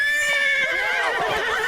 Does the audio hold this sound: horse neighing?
yes